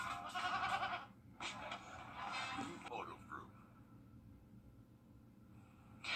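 A goat bleats in a TV advert for an injury law firm, short nasal cries mixed with voices talking over background music, the bleats fairly close and clear.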